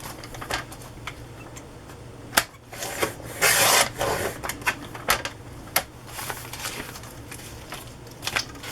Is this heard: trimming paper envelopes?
yes